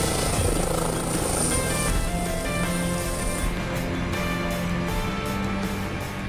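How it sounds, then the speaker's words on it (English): An air ambulance helicopter lifts off and hover taxis for a rescue call to a man fallen from a roof, its rotor and turbine roar steady, loud and close throughout with no talk. "So just lift, turn, and hover taxi out to the right."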